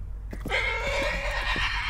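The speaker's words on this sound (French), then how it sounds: "et même un cheval" A horse gives a single loud, close whinny that rises and then trails off over a low steady rumble, with no talking.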